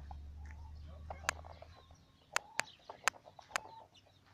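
Chickens cluck inside a barn over a steady low hum, with scattered soft calls and several sharp, loud clucks punctuating the second half.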